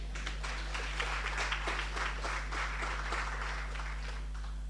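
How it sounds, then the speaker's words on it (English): An audience at a university social sciences orientation claps together in a steady, dense round of applause that holds evenly throughout, heard from within the hall over a low constant hum. "Clap yourselves."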